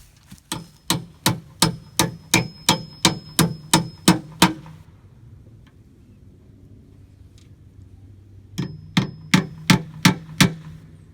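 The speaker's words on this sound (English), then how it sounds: "While I'm nailing this" Nails are hammered into a wild bird roosting box built from scrap lumber, a run of about twelve sharp, ringing blows at a steady rhythm, then a quiet pause with faint wind and a second burst of six strikes, close and loud.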